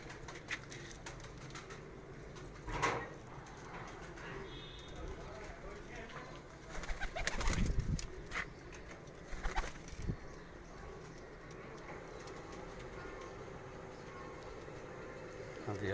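Pigeons in a loft coo softly and intermittently beneath a man's ongoing speech, with a few sharper flutters and bumps scattered through the scene.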